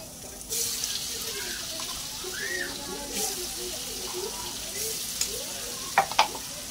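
Ginger-garlic paste ground with green chillies frying in a pan for batata vada, a steady soft sizzle with faint bubbling throughout and a couple of sharper clinks near the end, no talking.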